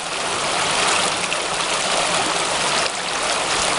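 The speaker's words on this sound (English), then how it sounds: "you can see a bunch of little, what looks like little mini waterfalls upstream" Small waterfalls in a mountain stream on Croghan Mountain make a loud, steady broadband rush of splashing water, continuous and close, with no voices.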